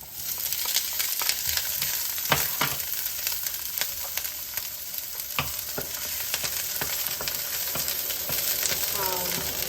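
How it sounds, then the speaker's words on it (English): Garlic and onions, including shallots and yellow onion, frying in hot cooking oil in a pan: a steady close sizzle with scattered crackles and pops throughout. "Now I put my garlic, onions,"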